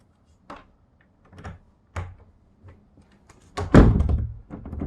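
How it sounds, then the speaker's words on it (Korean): Someone locks a room door, making a series of separate wooden thunks and small clicks, then a louder rattling clatter of the handle and latch close by. "문이 잠겼습니다."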